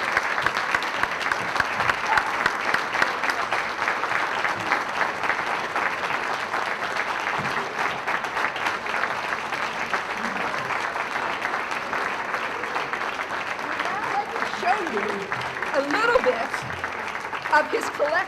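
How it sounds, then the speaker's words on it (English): At an awards ceremony, an audience delivers a long, steady round of applause that fills the room at even loudness throughout, with crowd murmur underneath. "one round of applause."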